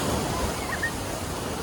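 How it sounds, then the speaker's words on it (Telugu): Sea waves roll in at Vizag beach, a soft, continuous wash of surf with some wind noise, fairly faint and without speech. "అవి వేవ్స్ ఎట్లా వస్తున్నాయి అంటే అలలు అయితే చూడండి ఎంత పైకని వస్తున్నాయి."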